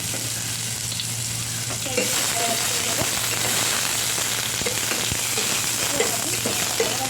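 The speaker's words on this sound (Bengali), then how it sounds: "এবার আমি কড়াই তেল দিয়েছি, এর মধ্যে দিয়ে দিচ্ছি পেঁয়াজ" Onion frying in hot oil in a wok for egg chops, a loud, continuous crackling sizzle close by that grows busier after the first couple of seconds, with no voices.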